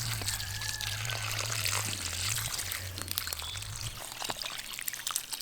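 Water pours and trickles steadily from a watering can or hose onto plants in a garden near a root cellar build, a continuous splashing flow under a low hum, faint rustling over the final seconds.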